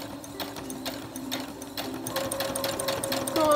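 A domestic sewing machine stitching backward for a few stitches and then forward again, with a steady rapid mechanical chatter that grows slightly louder near the end, heard close up with no talking.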